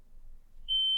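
A single high electronic kitchen timer beep sounds near the end, clear and steady over a quiet room, signalling that prosciutto is ready.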